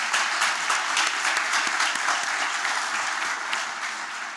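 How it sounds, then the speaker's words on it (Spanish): An audience at a group meeting applauds, a steady patter of many hands clapping that is moderately loud and continuous, easing slightly toward the end. "Pido un aplauso para el grupo."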